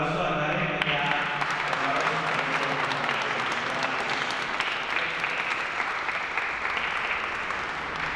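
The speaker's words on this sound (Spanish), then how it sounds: "Vamos a dar un fuerte aplauso a Karen." Room full of guests at a quinceañera celebration in Tampico clap steadily together, a continuous wash of hands throughout, fairly distant and moderate in level, with voices faintly under it.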